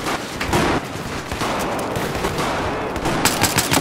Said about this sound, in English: Hit him with the BB gun.